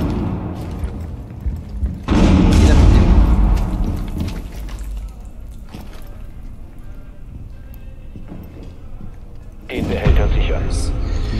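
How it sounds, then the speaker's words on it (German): A flashbang grenade detonates in Rainbow Six Siege with a loud, sharp blast that rings out briefly. A second burst follows later over steady game noise and movement. "Blendgranate unterwegs."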